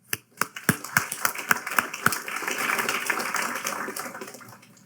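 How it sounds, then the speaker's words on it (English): Conference audience at a Droidcon NYC developer talk breaks into applause: a few sharp, separate claps first, then building into a sustained, even patter of many hands that fades toward the end. "So maybe we'll give them one more round of applause."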